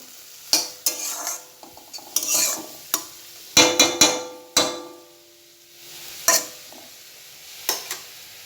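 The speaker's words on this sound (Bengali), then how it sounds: "এখানে কুঁচো আলু ভাজা" Sharp scraping and clattering of a spatula stirring small potatoes in a pan over a soft frying sizzle, irregular strokes close by, no voices.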